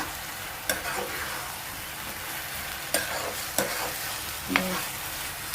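Grated raw mango frying in a pan for pickle, giving a steady, soft sizzle with a few sharp clicks and scrapes of a spoon stirring it.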